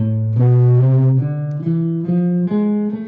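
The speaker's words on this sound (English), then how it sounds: "So A harmonic minor sounds like this." A single guitar plays a slow ascending A harmonic minor scale, one clear note at a time, each ringing briefly before the next.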